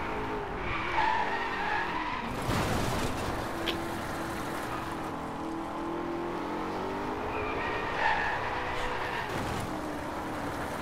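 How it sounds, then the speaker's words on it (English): A slow car in the racing game Driveclub drones steadily as its tires skid and squeal through corners. The engine hum runs continuously, and the skid noise swells in a few longer slides. "This car is really slow,"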